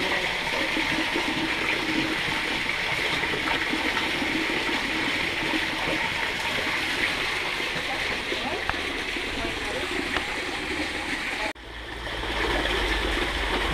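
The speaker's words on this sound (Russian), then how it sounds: "Ну, Тима набирает воду." Tap water pours steadily into a bucket, a continuous loud rushing stream with a brief change in tone near the end as the flow shifts; people talk faintly.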